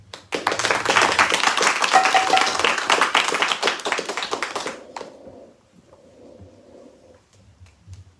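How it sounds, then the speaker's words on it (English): A temple audience in New York claps hard and fast together for several seconds, then the applause stops abruptly and a soft sustained tone lingers. "The clapping was not enough actually"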